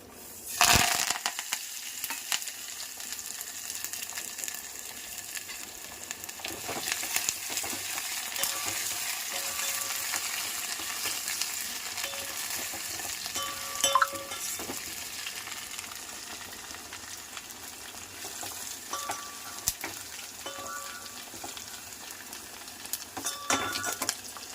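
A tempering of curry leaves, garlic, dried chillies, cumin and mustard seeds fries in a ladle of oil. A soft, quiet sizzle runs throughout, broken by occasional stirring clinks and crackles. No one speaks.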